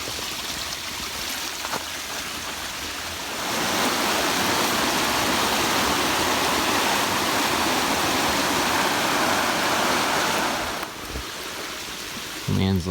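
Rushing water from a stream in Ecuador pours steadily in a loud, broad wash, like a fast stream or small cascade nearby, quieter at the start and end.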